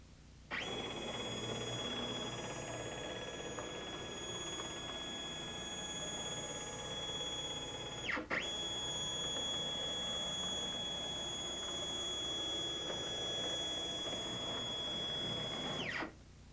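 Stepcraft 2 840 CNC machine jogging one axis at full speed: a steady, loud whining stepper-motor drone with high tonal harmonics runs for about fifteen seconds, broken by a brief dip midway as the direction reverses.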